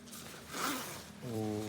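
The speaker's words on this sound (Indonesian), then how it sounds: "Resletingnya smooth banget nih guys, lancar banget. Ini pakai YKK ternyata." A YKK zipper on a jacket is pulled open in one smooth, close zip lasting about a second, with a short rising rasp at the end.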